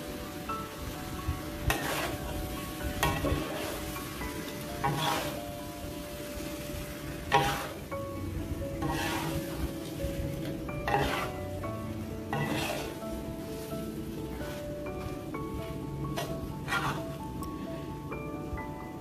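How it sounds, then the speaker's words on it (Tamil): Vegetarian Kam Heong chicken is stirred in its sauce in a pan over medium heat, giving a steady, close sizzle with repeated scraping and clinking strokes of the utensil against the pan throughout. "மிதமான தீயில் வச்சு நல்லா மிக்ஸ் பண்ணி விடுங்க."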